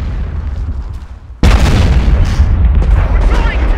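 Heavy incoming fire in the World War II strategy game Company of Heroes: a sudden loud boom after a quieter stretch, then sustained rumbling blasts and crackle, with a voice shouting over it.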